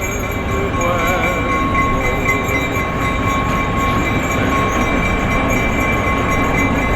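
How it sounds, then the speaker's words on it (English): A Christmas excursion passenger train rumbles past close by in a continuous loud roar, with rattling wheels and a faint metallic whine over the whole stretch. "750 people rolling into town on the train here to meet Santa"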